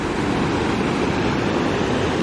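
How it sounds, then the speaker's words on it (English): The Mossy Cave waterfall in Utah roars with a steady, loud broadband rush of falling water heard from right at its top, constant and unbroken. "And here we are atop the Mossy Cave waterfall."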